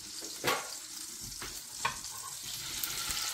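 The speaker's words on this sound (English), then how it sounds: "Olive oil and butter is what I'm going to saute the shrimp in." Shrimp sautéing in hot olive oil and butter in a pan, a close steady sizzle with a few sharper pops and crackles, no talking.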